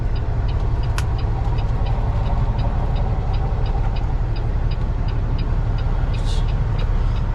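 A car passes near a Peterbilt flatbed truck waiting on a tight turn by a ditch, heard as steady low engine and road rumble with faint ticking, no talk.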